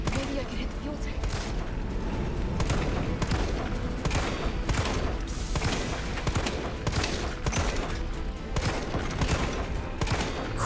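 Dense bursts of gunfire aimed at a fuel tank during a Nemesis fight in Resident Evil 3 Remake, shots and booms coming in rapid succession with a voice talking over them.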